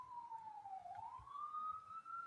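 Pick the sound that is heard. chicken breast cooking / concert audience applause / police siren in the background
police siren in the background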